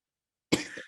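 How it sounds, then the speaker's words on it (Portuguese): One short, close cough breaks out suddenly after silence, with a brief throat-rough tail following it. "Para de tossir."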